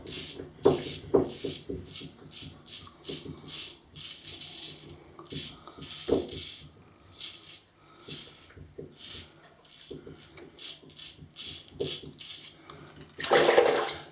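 An Ever Ready Featherweight single-edge razor scrapes across the grain of lathered stubble in a quick series of close, crisp rasping strokes with brief pauses between them.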